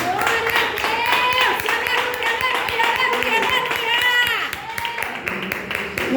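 A church congregation claps for Jesus with a steady, loud rhythm, the clapping sitting under sung or spoken worship voices and instrumental tones that continue throughout.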